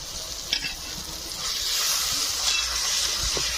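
A spice paste of ginger and garlic, chili and other ground spices fries with a little water for a village-style chicken curry, hissing steadily under occasional stirring clinks, growing slightly louder partway through.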